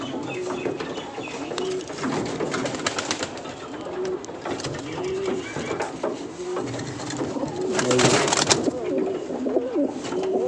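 A red checker male pigeon coos repeatedly in soft, low, rolling calls, close by, with some rustling and faint background noise between them.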